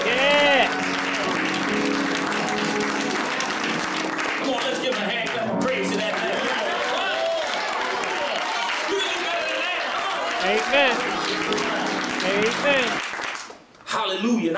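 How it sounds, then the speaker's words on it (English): A church congregation applauds together in a sustained, loud wash of clapping mixed with crowd voices, holding steady for most of the stretch before dipping briefly near the end. "let's give a hand clap of praise to that man"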